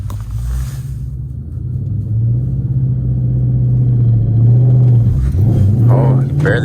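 A car on a stage 4 clutch pulls away, its low engine rumble rising steadily and then wavering as the driver eases off, with people talking over it.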